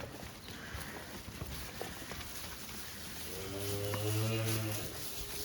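A single low, drawn-out moo from black cattle rises near the end over a faint outdoor background of shuffling and rustling.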